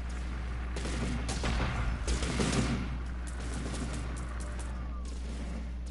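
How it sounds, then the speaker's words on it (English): Battleship cannons firing in the video game Terra Tech, with a burst of heavy booming shots near the start that fades into a steady rumble and hiss. "These are called battleship cannons."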